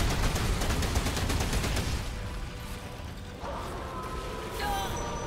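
Gunfire from a weapon in Remnant 2, a rapid crackling burst of shots for the first two seconds, then quieter game ambience with a tonal effect later, all under a player talking.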